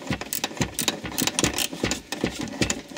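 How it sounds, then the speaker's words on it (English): A flexi-head ratchet spanner loosening an armrest bracket bolt in an Audi A6 clicks in a quick, steady run of sharp ratcheting ticks, close and fairly loud, with no talking. "again I'm going to use my ratchet spanner, flexi head one"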